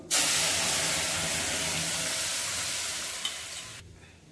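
Chuka (sorrel) and dill greens hit hot oil tempered with mustard seeds, turmeric and red chilli, setting off a loud, steady sizzle and hiss that holds for about four seconds before cutting off abruptly, with no talking.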